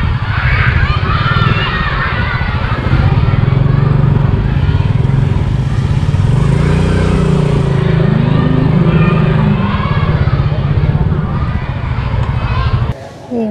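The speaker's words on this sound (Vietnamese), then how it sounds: "di chuyển xe máy với vận tốc là khá nhanh" A motorbike ridden fast on a road in Binh Duong, Vietnam, gives a constant loud engine drone and wind rush, with a voice talking over it most of the way.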